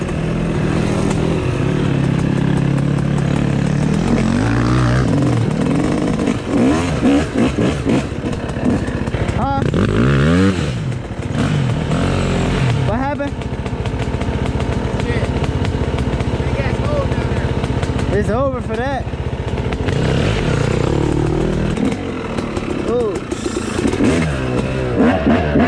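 A dirt bike engine revs and roars along a trail, staying loud and close throughout with rising and falling pitch and some clatter, while people talk over it.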